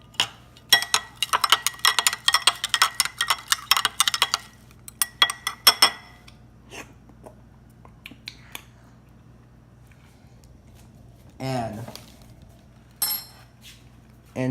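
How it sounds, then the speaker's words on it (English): A spoon clinks and taps rapidly against a dish while lemon juice slushy is stirred, a dense run of sharp clicks for several seconds, then sparse scattered taps over a quiet background hum. "Stir it all together."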